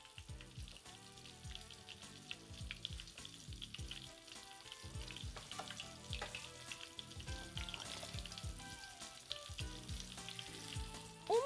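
Sausage balls made from Tuscan sausage, breaded in breadcrumbs, frying in a pan, with a continuous crackling sizzle and scattered pops heard close up, with no talking.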